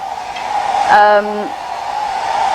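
A hair dryer whirs steadily and close by, its tone briefly rising and shifting near the middle before settling back to a constant drone.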